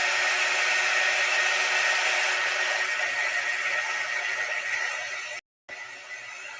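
A hair dryer blows steadily to dry a painted craft piece, a loud continuous whooshing drone that runs without a break and then cuts off briefly near the end.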